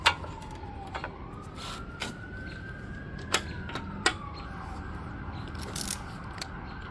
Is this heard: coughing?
no